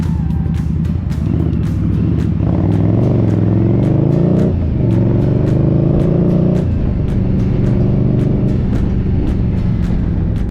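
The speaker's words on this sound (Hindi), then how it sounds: "लगभग 15 से 20 दिन के बाद मैं इस बाइक को स्टार्ट कर रहा हूँ" A motorbike left unused for 15 to 20 days starts and revs, its engine running loud and close with rising and falling revs and a steady idle between.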